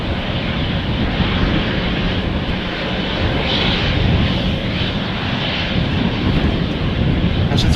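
An Embraer jet in SkyTeam livery taxis at Amsterdam Schiphol airport, its engines giving a loud, steady broadband roar that holds even throughout without breaks.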